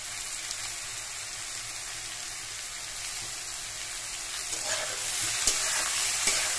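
Bitter gourd and potato with salt and turmeric are stirred in a hot pan, a steady close sizzle with spatula scraping that grows slightly louder and busier toward the end, with no one speaking.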